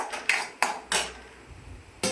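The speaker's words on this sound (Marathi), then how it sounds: "त्यानंतर त्यावरती झाकण ठेवायचं" Metal lid set onto a cooking pot of masala, several close, bright clanks and rattles as it is placed and settles, with a last clink after a short gap.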